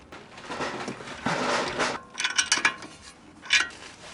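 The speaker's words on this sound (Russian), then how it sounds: "Теперь откручиваем вот эту гайку." A wrench unscrewing a nut near the front wheel of a Toyota Vitz during a steering tie rod replacement, giving a few scraping turns then quick clicking ratchet bursts, close and moderately loud.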